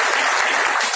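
Audience applause at a meeting, a dense, steady roar of many hands clapping at close range for the full second with no voices.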